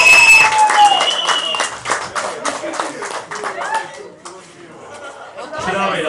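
Applause at a restaurant event in a spa restaurant, hands clapping through a busy room with chatter and a voice or two over it, loud at first and thinning toward the end.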